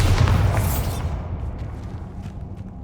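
Spell blasts from Confringo and Bombarda in Hogwarts Legacy erupt as a heavy booming explosion up front, its rumble and debris hiss fading away over the following seconds.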